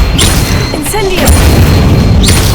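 An Incendio fire spell blasts in Hogwarts Legacy on Xbox Series S, a loud booming burst with crackling fiery noise that fills the moment, with a voice briefly heard under it.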